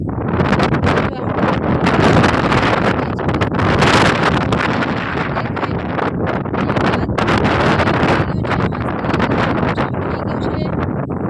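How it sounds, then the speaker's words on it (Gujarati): Heavy wind buffeting a camera microphone outdoors among green farm fields before a thunderstorm, a loud continuous roaring rumble with gusting surges throughout. "પવન અવાજ આવતો કેમેરામાં બહુ ફોકસ થતું નથી"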